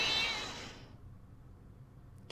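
A cat meows once inside the Ace Attorney Chronicles video game, a loud, bright call in the first second that fades into quiet room tone, followed by a short click at the very end.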